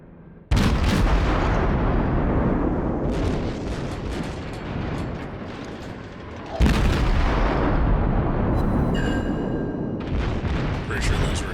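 Heavy naval gunfire from the Yamato battleship in World of Warships, two massive booming salvos several seconds apart with long rumbling tails, loud and close, with a faint voice in the background.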